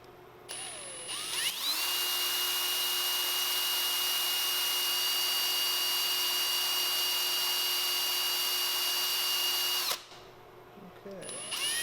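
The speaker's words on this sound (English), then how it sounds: "so I drilled it" A power drill bores a dimple into a ramrod pipe while fitting it to a rifle stock's inlet, whining steadily and loudly for about eight seconds with a short start and a clear stop, and no talking.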